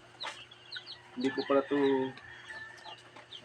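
Chickens clucking close by in short throaty bursts, with a few louder clucks in the middle, while a person speaks briefly nearby.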